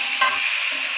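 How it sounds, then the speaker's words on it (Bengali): Sliced onions and chillies hiss in hot oil for a fish curry, a continuous close bright sizzle with a brief scrape of stirring near the start, no voices. "এবার আমি যে পেঁয়াজ আর মরিচ কেটে রাখছিলাম এগুলো দেবো।"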